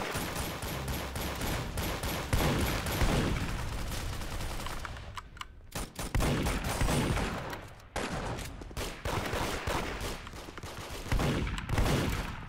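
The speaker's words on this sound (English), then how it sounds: "he had a shotgun, of course" Shotgun fire in an Arsenal video game match, loud repeated blasts among rapid fusillades of other gunfire, dense and near, broken by short lulls.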